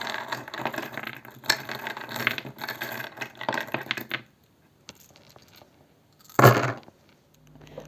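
Small rune stones clatter and rattle as they are shuffled by hand for a divination reading, a busy run of clicking for about four seconds, then quiet, a few faint taps, and a sharp burst as stones are drawn and set down.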